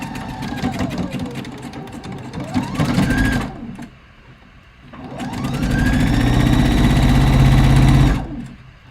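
A sewing machine stitches a robe jacket sleeve seam at a half-inch allowance, running over pins in two loud, fast bursts separated by a short quiet pause, with the motor whirring steadily throughout each run.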